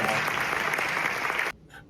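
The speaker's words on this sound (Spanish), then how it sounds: "Un fuerte aplauso para ellos." Applause from an audience at a mountaineering conference in Moralzarzal for honored guests, a dense steady clapping that cuts off abruptly, leaving a faint voice starting up afterward.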